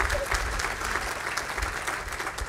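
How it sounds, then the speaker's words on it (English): An audience at a county mayor's budget address breaks into brief, dense applause, loud and steady for a couple of seconds with no speech over it. "You clap, man."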